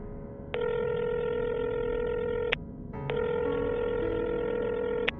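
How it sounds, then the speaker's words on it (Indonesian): A cartoon telephone call rings out unanswered, with two long, steady, buzzing ringback tones separated by a short gap, loud and clear over faint background noise. "Coba aku telepon aja deh, barangkali orangnya lupa apa gimana ini."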